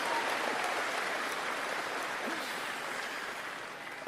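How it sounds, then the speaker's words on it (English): A large rally crowd applauds for Pierre Poilievre in Nanaimo, a dense and steady wash of clapping that stays loud throughout and eases slightly near the end. "Let's give them a round of applause."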